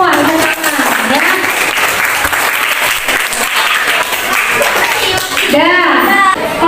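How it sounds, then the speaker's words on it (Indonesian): A group applauds at a school academic supervision session, with loud, dense clapping that runs throughout, and a voice speaks over the clapping near the end. "Tepuk tangan dulu untuk kita semua."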